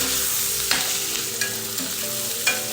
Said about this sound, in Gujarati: હવે એની અંદર આપણે કાચા કેળા અને કેપ્સિકમ ઉમેરી દેવાના છે